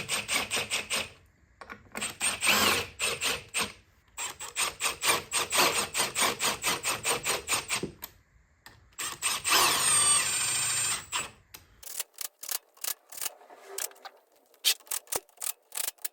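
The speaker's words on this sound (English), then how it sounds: "I'm just going to use the impact for this to make it a bit quicker" An impact wrench tightening the oil filter cover bolts on a Honda CG125 motorcycle, loud rapid hammering bursts in repeated short runs separated by pauses, close up.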